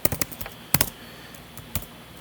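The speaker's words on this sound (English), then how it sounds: "Let's just say I'm going to type in" Keystrokes on a computer keyboard, a quick burst of clicks followed by a few scattered taps, close and clear with no talking.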